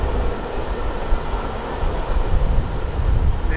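A CSX freight train rumbles past close by, a loud continuous roar of wheels and cars with steady low grinding noise.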